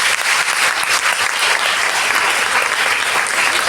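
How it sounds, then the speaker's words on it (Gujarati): Applause for a group of teachers fills the space as a dense, loud, continuous clapping from many hands, lasting throughout without a break. "એક વાર તાળીઓ બધા શિક્ષકો માટે"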